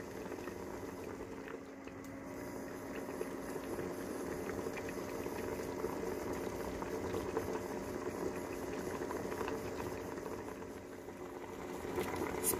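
Spaghetti noodles boiling hard in a pot of water seasoned with bamboo salt, a steady bubbling rumble that continues evenly throughout, close and unbroken, with no voices.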